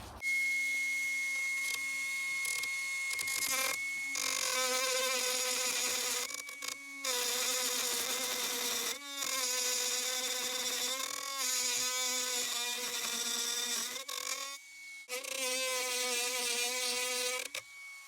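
A HyperTough 12V cordless router trims a rough wood edge, its high whining motor running steadily close by with brief dips and restarts as the cut proceeds.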